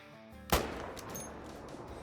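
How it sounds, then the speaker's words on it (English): A single sharp, loud Mosin Nagant rifle shot rings out during a hunt for a blackbuck about 300 yards away, followed by a rolling echo that fades slowly over open ground. "we're going to be taking a shot right now with the Mosin Nagants"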